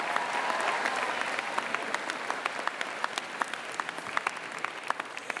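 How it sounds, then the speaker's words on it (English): Audience at a Stanford University opening convocation ceremony applauding, a dense, steady wash of many hands clapping with no voices on top, holding level throughout. "Now give yourself a round of applause."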